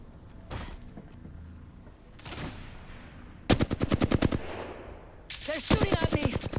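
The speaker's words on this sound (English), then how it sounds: "They're shooting at me." Machine gun fire in Apex Legends, two loud close sustained bursts of rapid evenly spaced shots, preceded by fainter scattered shots.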